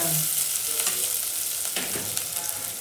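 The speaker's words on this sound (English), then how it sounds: "Let them fry until it changes its color" Sliced onions sizzle and fry in oil in a pressure cooker while making pulao, a loud steady crackling hiss with occasional stirring scrapes.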